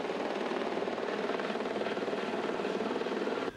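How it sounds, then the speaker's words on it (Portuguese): A military police helicopter flies overhead during a residents' eviction, its rotor giving a steady, loud, continuous chop throughout with no talk. "o helicóptero da PM deu cobertura na retirada dos moradores"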